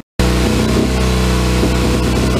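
A mini truck engine idles close and loud after a brief silent start, its low drone steady but broken by irregular stumbling beats like a misfiring hit-and-miss engine.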